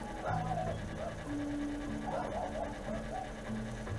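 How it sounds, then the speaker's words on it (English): Dogs pant rapidly and let out thin, high whimpers close by, the whines rising and falling over a steady low hum. "Excuse the dogs, guys."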